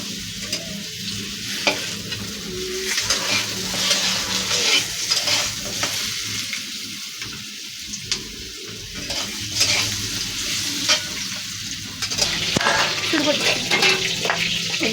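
Meat frying in hot oil in a wok, a continuous loud sizzle with repeated scraping and stirring strokes of a spatula against the metal throughout, close by.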